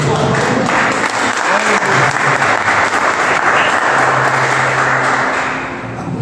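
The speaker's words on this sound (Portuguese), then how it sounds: "Você pode aplaudir o Senhor nessa noite." A church congregation applauds during an evening worship service, a loud, sustained wash of many hands clapping that fills the room for six seconds, with a faint sustained tone underneath and voices mixed in.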